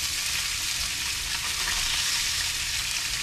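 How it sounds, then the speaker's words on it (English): A red snapper sears in a hot pan, giving a steady, loud, dense sizzle that holds evenly from start to finish with no pauses and no talking. "because it's a snapper, I want to just sear it just a little bit"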